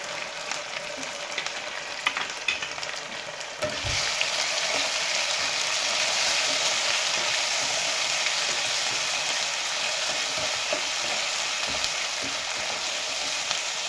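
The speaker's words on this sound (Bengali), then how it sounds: "মশলাটা একটু ভাজা ভাজা হোক।" A spice paste of ginger, garlic, garam masala, cumin and dried red chillies fries in hot oil, giving a steady close sizzle that turns louder and fuller partway through and carries on unbroken with no talking.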